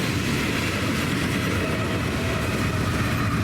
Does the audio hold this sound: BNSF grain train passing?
yes